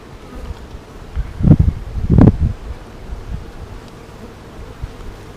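Honey bees buzzing around an opened hive during a routine inspection, a low hum with two louder close passes early on and softer buzzing the rest of the time, no talk.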